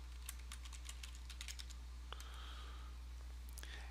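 Quick keystrokes on a computer keyboard as a username and password are entered, a rapid run of close, crisp clicks, a short pause, then a few more taps over a low steady hum.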